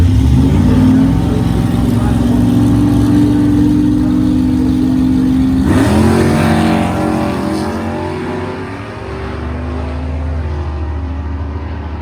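An old yellow pickup truck runs down a drag strip in a sportsman class race, its loud engine droning steadily and then fading as it pulls away, while a voice talks over it.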